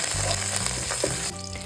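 Steady, loud sizzling of chopped green chillies and curry leaves frying in hot oil for Andhra chicken curry, with occasional stirring scrapes, continuous throughout and no talking.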